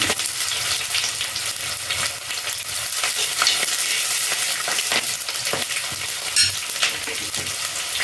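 Shallots and garlic sizzle steadily in a hot pan, with a spoon scraping and stirring through them in intermittent clinks and scrapes, close and continuous with no talking.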